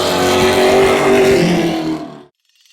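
Pro Stock race cars roar past loudly on the final lap at Oyster Bed Speedway, a sustained engine blare that fades out abruptly near the end.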